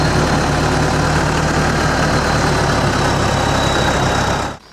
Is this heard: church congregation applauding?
no